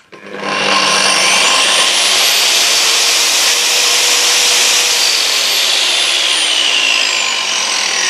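A Makita GA9050R 230mm angle grinder, three years in use, spins up from silence within a second and then runs at a loud, steady high whine from about a meter away.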